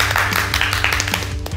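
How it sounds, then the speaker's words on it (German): Scattered clapping from a small audience, quick overlapping claps lasting over a second, fairly close and without talk. "Ein Applaus."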